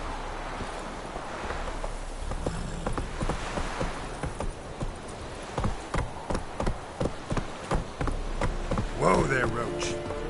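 Roach, the horse in The Witcher 3, clip-clops into a trot with a run of distinct, evenly spaced hoof strikes growing clearer toward the end, while game voices talk in the background.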